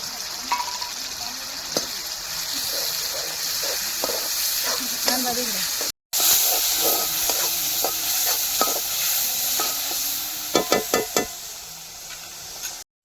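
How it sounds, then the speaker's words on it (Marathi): Tomato gravy goes into a hot pan and sizzles steadily, with a bright hiss and scattered stirring clinks and scrapes through the mix, close and moderately loud. "त्यानंतर टमाट्याची ग्रेव्ही केली होती ती टाकून देते."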